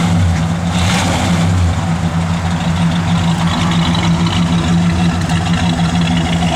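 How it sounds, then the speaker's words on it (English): A 1967 Pontiac GTO engine runs at a steady idle nearby, a loud, even low-pitched rumble with no change in speed. "Car sounds good."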